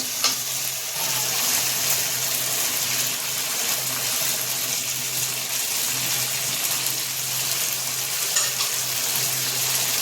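Tilapia pieces frying in oil with a cooked-down spice paste and coriander powder, a loud, dense, continuous sizzle and crackle that holds steady throughout with no voices.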